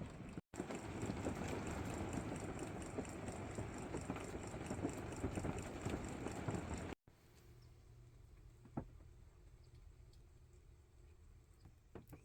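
Rain pattering on an RV travel trailer during a tornado-watch storm, a faint, steady dense patter that cuts out abruptly partway, leaving a quieter hum with a few scattered drips.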